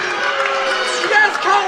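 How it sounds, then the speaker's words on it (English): Basketball crowd in a high school gym voicing displeasure at a foul call, a steady broad roar of voices and jeers that swells slightly near the end, with a commentator talking over it. "Crowd is voicing their displeasure"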